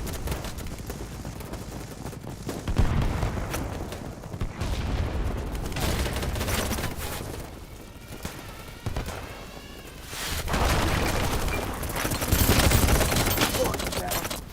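Gunfire in the Battlebit shooter game, bursts of rapid automatic fire coming in waves, some loud and close, others lighter, with brief pauses between volleys.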